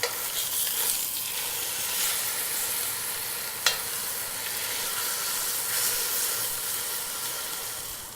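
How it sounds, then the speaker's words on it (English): Pieces of pork shoulder sear in a pan with a steady, loud sizzle and hiss that runs throughout, broken by a single sharp tap of a utensil partway through. "And the searing just really helps to add a lot of flavor."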